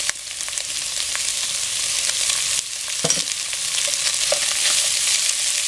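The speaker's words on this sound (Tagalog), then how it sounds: "Isute lang natin mabuti ito hanggang ma-coated siya ng oil." Carrot pieces sautéing in hot oil for macaroni sopas, a steady close sizzle with occasional stirring clatter from the pan, no talking.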